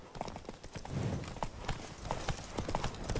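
Horse hooves clip-clop briskly in The Witcher 3, a quick, fairly close run of irregular hoof strikes that carries on for a few seconds.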